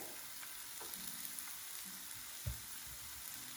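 Diced onion frying in a pan with browned garlic, an even low sizzle with soft stirring scrapes and a single clunk midway, close and alone without voices.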